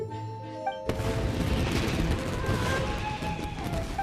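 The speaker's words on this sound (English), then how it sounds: "Yoimiya, this is turning into a bit of a fireworks display." Fireworks burst in Genshin Impact, a loud dense barrage of crackling explosions erupting after a brief tonal musical lead-in and continuing without pause.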